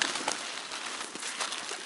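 A flock of pigeons being fed on a pier coos and flutters in a dense, continuous wash of bird noise, close and fairly loud, with rustling and crackling mixed in.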